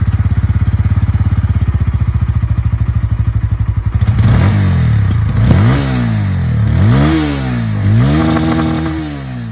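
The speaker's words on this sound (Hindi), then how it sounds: "अब मैं आप लोगों को यहाँ पर N160 की जो आवाज़ है वही मैं आप लोगों को सुना दूँ।" Bajaj Pulsar N160 motorcycle with underbelly exhaust, heard close up: a steady pulsing idle, then several sharp throttle blips that rise and fall in pitch, loud and alone with no talking.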